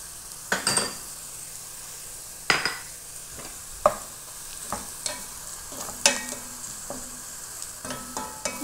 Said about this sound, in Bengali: এখানে দিয়েছি তেল ও পেঁয়াজ কুচি, হালকা একটু ভেজে নিব